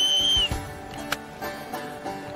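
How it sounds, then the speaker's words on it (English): A single sharp whistle blast ends a fishing contest in Alaska, fading out, followed by quieter background noise and a few soft clicks. "And that's the final whistle."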